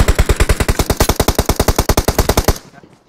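Rapid automatic gunfire in PUBG, a fast steady burst of about two dozen loud shots lasting over two seconds, then cutting off into quiet.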